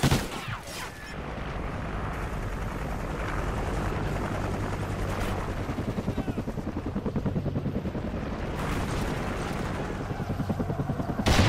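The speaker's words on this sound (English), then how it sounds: "Friendly chopper inbound." A friendly helicopter arrives in Call of Duty Ghosts, its rotor beating in a rapid steady chop for most of the stretch, with bursts of gunfire and explosions breaking in near the start and end.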